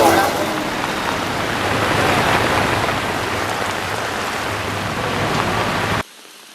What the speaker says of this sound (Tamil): கடும் மழையுடனான வானிலையால் அக்குரணை நகரம் இன்று மாலை வெள்ளத்தில் மூழ்கியது.